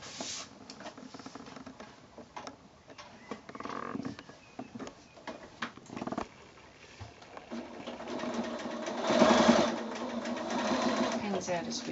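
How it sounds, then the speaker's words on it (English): A sewing machine stitches across a thick quilted drawstring bag with uneven, rattling bursts that build into a steadier run near the end, all under ongoing talk. "we're going to go to the machine and we're going to stitch right the way across there."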